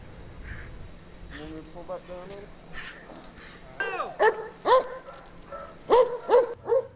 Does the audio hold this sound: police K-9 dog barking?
yes